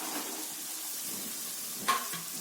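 Steady sizzling of chicken frying in a hot pan, a continuous crackling hiss with a brief louder scrape near the end, no talking.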